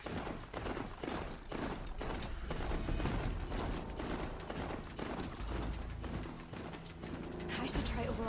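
Metallic clanking footfalls of a ridden Strider machine in Horizon Zero Dawn Remastered: a fast, rhythmic mechanical gait with ratcheting, gear-like clatter, loud and continuous under game music and background noise.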